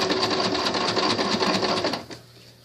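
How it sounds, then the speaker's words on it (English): Sewing machine stitching fabric scraps into a ribbon banner, a fast steady rapid-fire whir of needle strokes running loud and close for about two seconds before stopping abruptly, leaving a faint hum. "make sure my needle's in, lift it up, go, and sew again"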